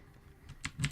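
Keys clatter on a loud computer keyboard, a few quick, sharp clicks building toward the end of a short burst over faint room noise.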